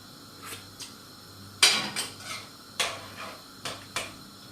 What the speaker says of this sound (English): I'm going to test the pot now